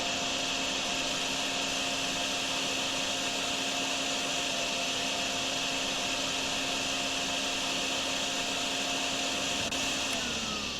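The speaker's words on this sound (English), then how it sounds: "If we can vacuum up what's left." Vacuum cleaner sucking up floodwater in the drain-cleaning game DrainSim, a steady loud motor whine with broadband airy rush held continuously, no talking.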